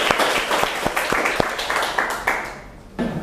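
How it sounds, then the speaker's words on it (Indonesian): A class of lecturers in a university teaching workshop claps together in a short, fairly close round of applause that fades out, followed by a voice. "Oke, tepuk tangan, terima kasih."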